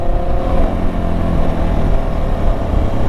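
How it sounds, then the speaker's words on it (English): A Suzuki DRZ400 dirt bike with a Rekluse clutch engine-brakes on a ride, a loud, steady low engine drone mixed with wind rush and no clear rise or fall. "There's engine braking."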